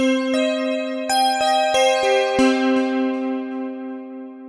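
A bright, metallic default patch tone from Logic Pro's Sculpture synthesizer plays a short run of notes, each struck with a twangy attack and ringing on, fading out at the end.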